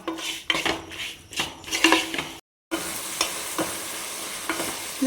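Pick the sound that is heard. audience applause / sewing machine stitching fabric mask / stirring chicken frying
stirring chicken frying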